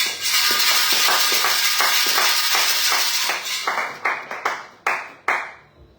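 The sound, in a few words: congregation clapping in church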